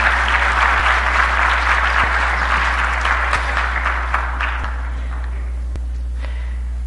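Audience applause for an award recipient, a teacher and doctor, at a Veracruz state education event, clapping steady at first and then tapering off to near silence over a low hum.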